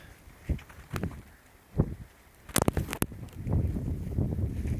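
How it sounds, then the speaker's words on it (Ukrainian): Gusty wind rumbles against the microphone in a hazelnut nursery, building into a steady low roar after a few scattered knocks and clicks. "Вітер дує."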